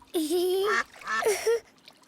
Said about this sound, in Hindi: बतख ने हॉपिटी को वैक वैक किया